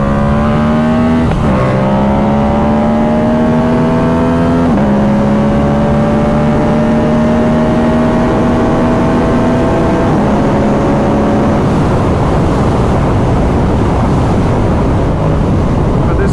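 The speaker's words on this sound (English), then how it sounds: "I'll give you a little burst energy here." A Yamaha R7 motorcycle with a Yoshimura exhaust roars loudly up close, its engine note climbing in pitch through several gear changes, then giving way to heavy wind rush near the end.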